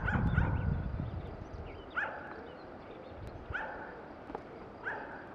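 A dog barks in short yippy bursts at someone filming a magpie, four or five separate barks spaced a second or so apart, fairly close, over soft outdoor background noise.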